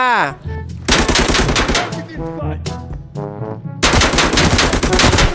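Gunfire in the shooter video game Arena Breakout, loud close bursts of rapid automatic shots in several volleys, with short gaps between them.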